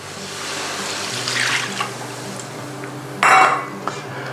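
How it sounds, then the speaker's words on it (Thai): Soup stock goes into a pan after Chinese wine has reduced, while braised shark fin is being prepared: a brief, splashy rush of liquid over low kitchen clatter and a steady background hum. "หลังนั้นใส่น้ำซุปลงไปครับ"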